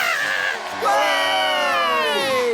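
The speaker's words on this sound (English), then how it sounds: "The crowd went wild!" A cartoon crowd cheers wildly at a children's gymnastics event, loud overlapping whoops and yells rising sharply after a brief dip and holding steady to the end.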